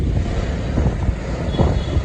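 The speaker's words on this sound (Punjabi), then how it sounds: "ਪਹਿਲਾ ਜਹਾਜ਼ ਆ ਯਾਰ ਵੇਖਿਆ ਮੈਂ ਇੰਨਾ ਨੀਵਾ" A low-flying airplane roars overhead in a broad, steady rumble mixed with wind buffeting on the microphone, loud and continuous throughout with no speech.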